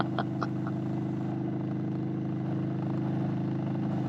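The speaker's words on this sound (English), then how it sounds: "The distinct exhaust note of the Thunderstroke engine adds to the riding experience." A 2023 Indian Chief motorcycle's Thunderstroke engine gives a steady, loud, deep exhaust rumble that drones evenly throughout, with a couple of faint clicks near the start.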